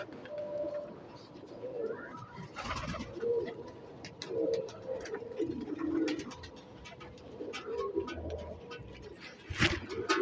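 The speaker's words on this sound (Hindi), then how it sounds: "तो ये इंडिया का कबूतर नहीं है जी, इंडियन कबूतर नहीं है, ये कोलंबियन कबूतर है।" Pigeons coo softly in repeated low, rolling phrases, a steady series of throaty calls close by with faint background noise.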